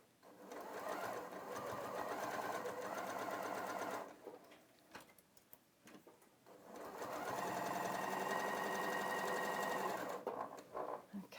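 Sewing machine chain-piecing fabric with a single stitch plate, running in two long loud steady bursts of rapid stitching separated by a short pause with a few soft handling sounds.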